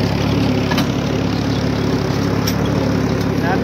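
A tractor engine drones loudly and steadily as it pulls a plough through a field in Faisalabad, Punjab, a close, continuous low rumble from start to finish.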